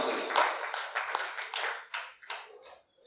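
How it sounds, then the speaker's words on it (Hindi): Clapping from the audience at a Hindi poetry gathering (kavi sammelan), a few uneven bursts of hands that swell and fade in waves rather than a continuous roar. "एक बार तालियां बजाइए जोरदार।"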